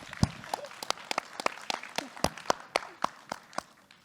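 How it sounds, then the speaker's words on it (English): Sparse, distinct handclaps from a small audience greet the panelists at a conference on online communities, individual claps ringing out irregularly and fairly close, thinning out toward the end. "A round of applause, please."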